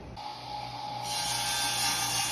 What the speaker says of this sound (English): I hear the saw running